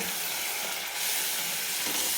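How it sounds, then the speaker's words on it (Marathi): Half a glass of hot water hits a hot pan of ridge gourd curry, giving a continuous loud sizzling hiss that swells slightly partway through, with no talking. "तर अर्धा ग्लास मी पाणी टाकले."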